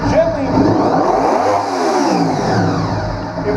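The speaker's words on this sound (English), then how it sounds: "we can actually fire this bike up with the airbox open like this, and you can see that in here that it's running, fires right up, idle's great" A 1998 Honda VFR800Fi motorcycle engine running close by with the airbox open, a loud steady mid-pitched drone with slight throttle swells, under someone talking throughout.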